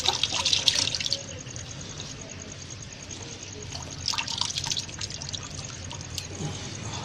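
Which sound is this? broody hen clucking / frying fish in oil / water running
water running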